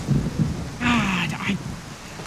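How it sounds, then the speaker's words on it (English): A thunderstorm in the video game Skyrim, with one rolling rumble of thunder rising over steady rain and wind, no voices. "I freaking love this thunder."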